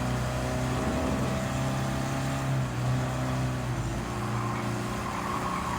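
Steady rumble of an old Willys Jeep engine in Gran Turismo 7 on the Nürburgring, held at a constant drone near its top speed with little change in pitch, loud and alone throughout.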